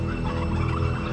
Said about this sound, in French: il faudrait sortir les dindes du poulailler, le temps de le nettoyer